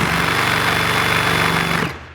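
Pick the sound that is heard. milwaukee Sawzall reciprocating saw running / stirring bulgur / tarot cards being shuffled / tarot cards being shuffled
milwaukee Sawzall reciprocating saw running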